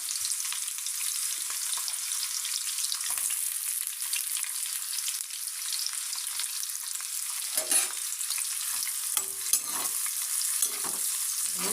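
Chopped onion and green chilli pieces fry in hot oil, giving a steady, close sizzle that runs the whole way with a few louder crackles and stirring scrapes near the end.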